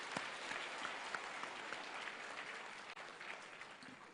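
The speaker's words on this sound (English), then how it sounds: "let us give them a warm round of applause to show our appreciation" Steady applause from a convention audience in Pasay City fills the whole stretch, a dense patter of many hands clapping at an even level without letting up.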